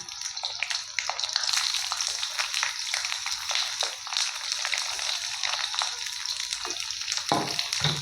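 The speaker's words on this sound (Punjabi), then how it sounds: "ਹੁਣ ਇੱਕ ਇੱਕ ਕਰੇਲਾ ਆਪਾਂ ਚੱਕਦੇ ਜਾਵਾਂਗੇ ਇਸ ਤਰ੍ਹਾਂ ਆਪਾਂ ਤੇਲ ਦੇ ਵਿੱਚ ਛੱਡਦੇ ਜਾਵਾਂਗੇ" Stuffed bitter gourds frying in mustard oil in a wok, a steady close crackling sizzle with bursts of spattering that holds throughout, alone without talk.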